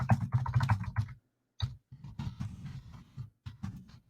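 Typing on a computer keyboard: quick bursts of soft clicky keystrokes with short pauses between runs, close and fairly quiet.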